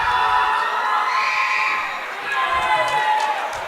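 Crowd noise from spectators at a girls' high school basketball game, Lyman Lady Raiders versus Jones County Lady Coyotes, rising as a player is substituted out; steady mid-distance cheering and clapping with scattered shouts throughout.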